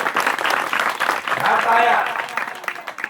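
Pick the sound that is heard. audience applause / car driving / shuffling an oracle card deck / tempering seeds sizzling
audience applause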